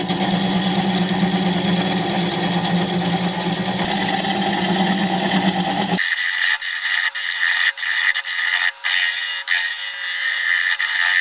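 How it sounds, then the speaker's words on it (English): A wood lathe spins a desert oak bowl while a 3/8 inch standard grind bowl gouge cuts away the tenon. A loud, steady whirring drone with dense scraping for the first half gives way to a thinner, choppier tone with intermittent cutting bursts. "I'm going to grab a 3/8 inch standard grind bowl gouge and begin to removing that tenon."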